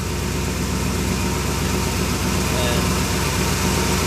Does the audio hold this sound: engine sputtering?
yes